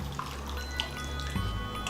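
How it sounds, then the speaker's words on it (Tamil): Water poured into a pot of simmering vathal kulambu, a spicy Tamil tamarind curry, gives a close, steady splashing and trickling with a few brief drip-like accents for about two seconds. "இன்னும் கொஞ்சம் தண்ணி ஊற்றிக்கலாம்."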